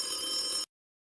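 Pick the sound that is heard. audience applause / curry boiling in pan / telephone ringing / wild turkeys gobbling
telephone ringing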